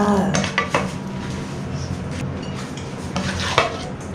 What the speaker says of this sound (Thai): ตักใส่จานพร้อมเสิร์ฟเลยจ้ะทุกคน